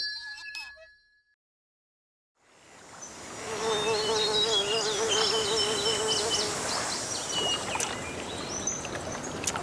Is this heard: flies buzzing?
yes